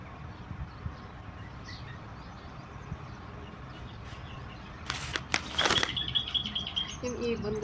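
Wings flap in a quick burst near a person in a park in Oman, a short flurry of beats rising out of steady outdoor ambience, with faint chirps and distant traffic around.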